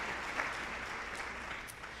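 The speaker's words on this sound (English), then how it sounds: "Give them another round of applause." Steady applause from an audience after a school band's spring concert, a dense wash of clapping filling the clip at moderate loudness with no talk over it.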